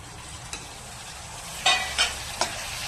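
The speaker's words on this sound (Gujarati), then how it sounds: "તો હવે ડુંગળી સરસ ચડી ગઈ છે તો આપણે તેમાં ટમેટાની ગ્રેવી ઉમેરી દઈશું." Tomato gravy goes into frying onions for chole, setting off a continuous sizzle with several sharp stirring scrapes and clinks from a spoon against the pan, close up and with no voices.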